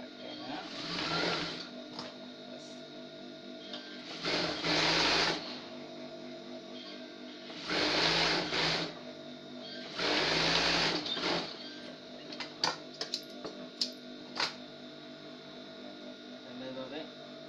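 A sewing machine stitches salwar fabric in several loud, whirring bursts of a few seconds each with pauses between, followed by lighter clicking near the end.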